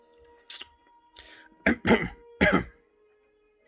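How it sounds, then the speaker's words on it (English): A man coughs and clears his throat in short, rough bursts while ill with a virus, three close loud coughs following a couple of softer throat-clearing sounds, alone in a quiet indoor room. "You keep coughing with this virus."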